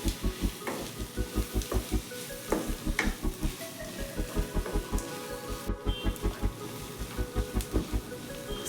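Ivy gourd (tondekai) palya frying in a pan, a steady soft sizzle with regular rhythmic stirring or scraping taps, close and fairly quiet, with no talking.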